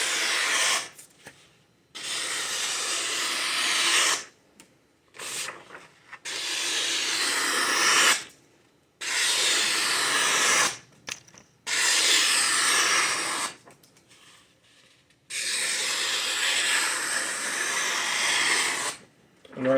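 A sharp knife push-cutting through a sheet of paper, several long rasping strokes of a few seconds each, loud and close, separated by short pauses.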